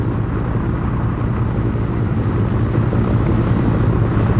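A Piasecki HUP-2 helicopter drones steadily and loudly as it flies away over the ocean, its rotor throb and engine roar continuous, with no voices.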